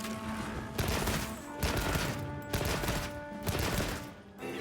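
Light bowgun fire in Monster Hunter Wilds comes in loud rapid bursts of rattling shots, four volleys separated by brief gaps, close and full, with no voices.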